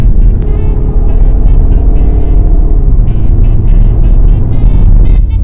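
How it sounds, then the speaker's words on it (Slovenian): A new car cruises on the motorway with a loud, continuous rumble of engine and road noise that holds steady throughout, with no talking. "se že vozimo s tem novim avtom"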